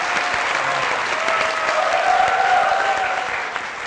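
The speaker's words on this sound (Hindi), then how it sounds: "आपकी बहुत सारी तालियों में जनाब जमशेद दस्ती साहब" A studio audience at a Pakistani TV comedy show applauds loudly and steadily, a dense wash of clapping held at an even level for nearly four seconds without any talk.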